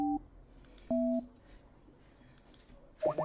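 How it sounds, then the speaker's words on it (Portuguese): Beeping telephone tones sound while a call is placed: short steady electronic tones come through at intervals, with a quieter gap before the last one, alone and fairly clear. "Peraí, ainda que eu tô já ligando para ela."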